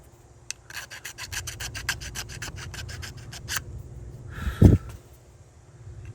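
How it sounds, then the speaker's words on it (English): A hand file rasps away excess molded plastic on a rear passenger door handle for a 2012 Toyota RAV4, a series of short, rhythmic scraping strokes up close, followed by a brief louder knock and some handling. "I'm filing away the excess of the plastic from the mold."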